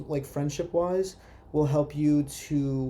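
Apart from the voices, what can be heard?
No everyday noises stand out.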